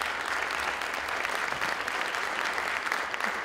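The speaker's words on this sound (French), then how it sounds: "Je vous demande d'applaudir nos 3 intervenants." An audience at a conference on future housing and architectural project management gives a sustained burst of steady clapping for the speakers, dense and even throughout.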